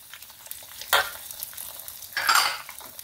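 Rice vermicelli stir-fries in a pan just after chili sauce goes in. A steady close sizzle is broken by two louder bursts of sizzling as a utensil scrapes and tosses the noodles.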